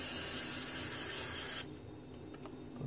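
A hissing spray of WD-40 lubricant onto an Axial SCX10 II RC car transmission during teardown blasts for about a second and a half, then stops, followed by faint rubbing and handling noises.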